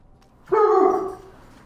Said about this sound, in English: And that dog bark was Carl